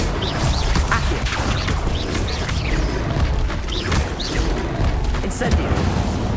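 Accio summoning spells cast again and again in Hogwarts Legacy combat, with sharp magical bursts and thuds repeating every second or so over a dense, loud backdrop of battle noise, spoken incantations mixed in.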